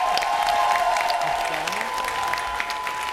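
Audience applause at a concert in Voronezh, a steady, dense wash of clapping from a crowd that holds for the whole stretch at fairly even loudness, with a faint tone running underneath.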